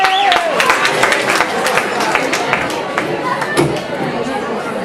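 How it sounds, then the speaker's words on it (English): Audience applause at a battle of the bands in Mullahoran, a steady wash of clapping mixed with crowd chatter, filling the hall throughout. "Give Amy a big round of applause."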